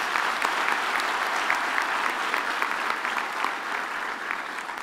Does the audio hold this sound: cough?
no